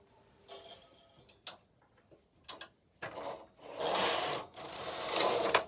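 Silver Reed punchcard knitting machine carriage running across a row, a few brief clacks at first and then two long, loud rasping sweeps, fairly close with no talk.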